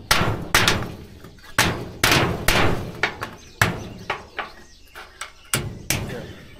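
Sharp hammer blows strike hard material at an irregular pace, some loud and some lighter, with a faint voice in the background.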